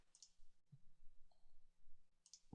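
A computer mouse clicks a few times, sharp and close, with brief isolated clicks spread across a quiet stretch and no talking.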